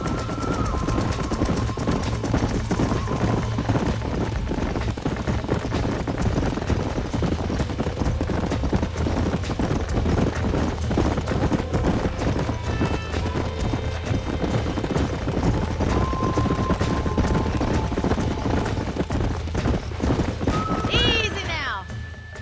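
Horses trot with steady clip-clop hooves and occasional neighs in a Red Dead Redemption ranch scene, loud and continuous under a dense game soundscape with voices talking throughout.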